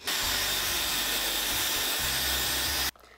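A hair dryer blows hot air onto a clear lace wig during an install, a loud steady roar with low motor hum that runs unbroken for nearly three seconds and then cuts off abruptly.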